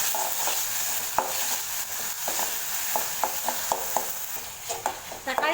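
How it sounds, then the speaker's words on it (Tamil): Tomato sautéing with ginger garlic in a pan, a steady close sizzle with a spoon scraping and stirring in intermittent knocks. "தக்காளி சேர்த்துட்டு நல்லா வதக்கி விட்டுட்டேன்."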